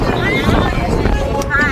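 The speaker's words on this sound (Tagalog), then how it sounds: "Lakas ng hangin dito guys." Strong wind buffets the microphone on the crowded Golden Bridge at Ba Na Hills, a loud, continuous rumbling gust under a person speaking.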